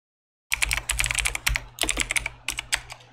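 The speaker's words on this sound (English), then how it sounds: "we will make a new folder" Quick, close keystrokes clatter on a computer keyboard as a folder name is typed, starting after a short silence and continuing as a rapid, uneven burst of clicks.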